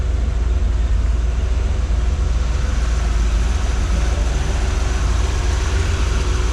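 A steady, low engine rumble from a restored 1967 Corvette L79 roadster, idling continuously at close range, with no talking over it.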